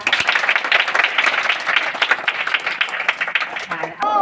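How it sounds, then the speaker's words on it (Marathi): A group of schoolchildren claps together in a sustained burst of applause, close and lively, with voices mixed in. "सगळ्या जणांनी चिंटूसाठी टाळ्या वाजवा"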